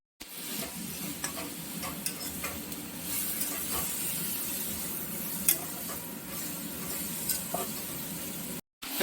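Drumstick greens frying with turmeric, salt and jaggery give a steady close sizzle, with light stirring scrapes and occasional ticks running throughout and no voices.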